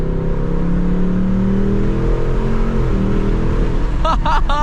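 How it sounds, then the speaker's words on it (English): A 2024 Ford Mustang GT engine idles and hums low and steady, close by. A short burst of higher squeaky noise comes near the end. "Oh my God, I can barely hear the car."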